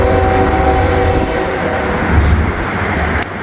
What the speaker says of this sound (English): First train we should have is Norfolk Southern